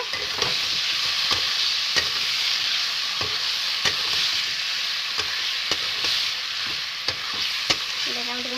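Cabbage and potato curry being mixed in a hot pan, a steady frying sizzle punctuated by regular sharp spatula taps and scrapes, close and clear with no voices.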